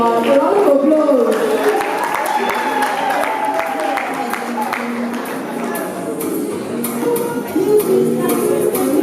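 An audience applauds at a youth awards ceremony, a dense sustained patter of many hands with crowd murmur, while a voice talks over it.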